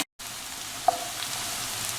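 Onion frying in pure ghee until light golden brown, a steady soft sizzle close by, with a single small pop partway through and no talking.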